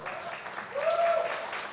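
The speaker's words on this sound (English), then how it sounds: "A big round of applause, please." Audience applause at a web series festival panel, a broad wash of clapping that swells around the middle and carries through, with a faint tonal sound over it.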